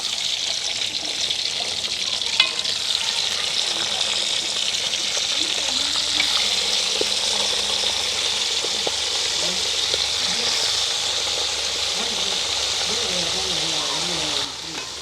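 Crab fries in a pan of hot oil at home, a dense continuous bubbling sizzle lasting throughout, close and fairly loud, with occasional faint stirring clicks and a voice speaking quietly underneath.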